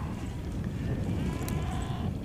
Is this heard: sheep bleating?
yes